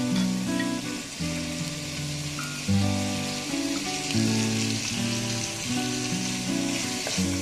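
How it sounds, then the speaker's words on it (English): Chopped onions fry in a pan for a chicken puff snack, giving a steady, soft sizzle that runs throughout beneath louder background music. "Now I'll be adding the chopped onions."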